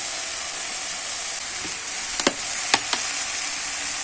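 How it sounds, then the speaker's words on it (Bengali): Spice paste for a Bengali fish curry sizzles steadily in a pan after a little water is added, a constant broadband hiss with a few sharp crackles and spits in the middle, no voices. "এখানে আমরা একটু জল দিয়ে দিচ্ছি।"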